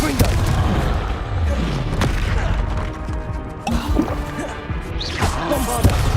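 Bombarda spell explosions thump and crash in the Hogwarts Legacy video game, several loud impacts scattered through a dense, busy mix of combat noise with no pause.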